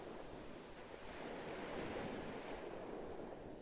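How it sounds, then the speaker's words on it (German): Steady rushing sea waves surge and wash continuously in the Pokémon Ranger video game, a broad even roar of surf with slight swells in loudness and no talking. "Meeresrauschen."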